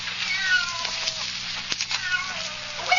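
A cat meows repeatedly in whiny, drawn-out cries on an old radio-drama recording, close and fairly loud, with a faint voice underneath.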